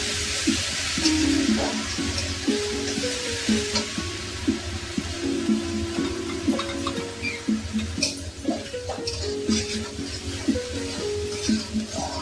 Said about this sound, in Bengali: পেঁয়াজ বাটা, ওই তেলেই দিয়ে দেব। পেঁয়াজটা ভালো করে ভেজে নেব।